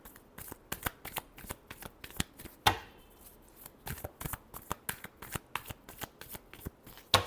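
Tarot cards being shuffled by hand in a rapid, irregular run of crisp riffling slaps and flutters, close and fairly loud, with no talking, during a Libra weekly horoscope reading.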